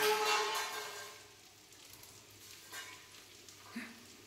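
Okra and potato pieces fry in a home kitchen pan, a soft sizzle that is strongest at first and then settles, with a light scrape of stirring near the end.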